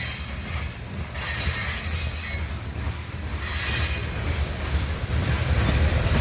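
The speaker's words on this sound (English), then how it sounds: "This is a slow-moving train right here." A slow-moving freight train passes near Wartrace, Tennessee, its cars rumbling steadily while the wheels squeal shrilly in waves over the heavy, continuous rolling noise.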